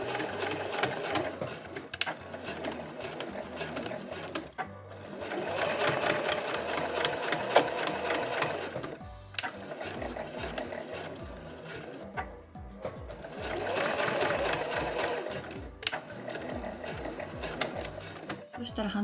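A sewing machine backstitches across an overlapping seam of fabric for a tissue pouch, running in several loud, rapid bursts of stitching separated by short pauses.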